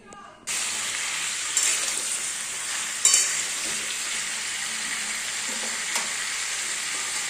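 Chopped vegetables including potato, pumpkin and eggplant frying in oil in a kadai: a strong continuous sizzle that starts abruptly, with occasional stirring clatters, no voices.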